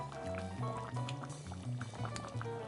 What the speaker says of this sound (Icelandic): Og hérna bara hella alltaf í skeiðina.